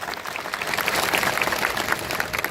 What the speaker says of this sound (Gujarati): એકવાર સરપંચો માટે જોરદાર તાળીઓ પાડી લો